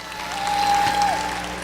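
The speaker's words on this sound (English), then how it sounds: "let's give everybody a round of applause" Brief applause from an audience at a transportation staff meeting, a short swell of clapping with a faint steady tone running through it.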